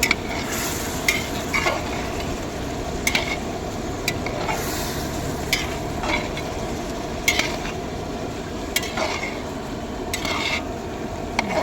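Tomato pieces cook down in a pan, giving a continuous low sizzle with frequent sharp clicks and scrapes from a spatula stirring against the pan. No one speaks.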